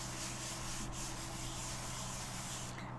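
A hand rubs steadily over the back of a paper card front, a soft continuous brushing texture that stays even and close throughout.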